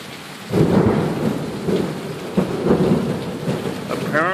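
Thunder rumbles through a heavy downpour in Sioux Falls, several deep rolling booms over constant close rain, about a mile and a half away, with no voices.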